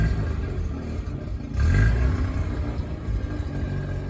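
A 1984 Mazda RX7 rotary engine idles steadily with a low, buzzing rumble, close and loud, swelling briefly partway through.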